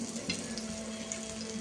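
Vadi frying in hot oil, a steady crackling sizzle that stays even and close throughout with no voices over it.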